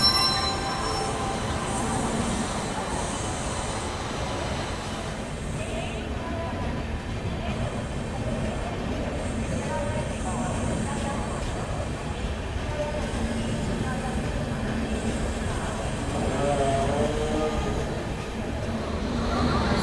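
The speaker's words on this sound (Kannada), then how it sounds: "ಇದು ಜಸ್ಟ್ ಡ್ರೈವ್ ಆಗ್ಬಿಟ್ಟು ಎರಡು ನಿಮಿಷ ಹಾಲ್ಟು ಹೊರಡ್ತಾ ಇದೆ ನೋಡಿ" An Amrit Bharat Express pulls away from a station after a two-minute halt. It sends out a long, loud rumble of rolling wagons with screeching wheel squeals throughout, heard from close by on the platform.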